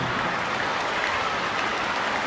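Audience applause at a school event with a Thai music performance, a steady dense wash of clapping from a crowd that runs through the whole moment with no talk over it.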